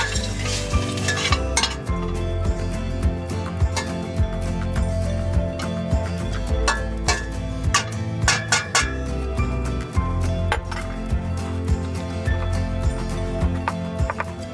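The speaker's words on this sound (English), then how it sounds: "I'm going to stir it a little bit" Enchilada quinoa being stirred in a pan over medium-high to high heat, with a low sizzle under repeated clinks and scrapes of a utensil against the pan in an uneven rhythm, close and fairly loud, with no voice.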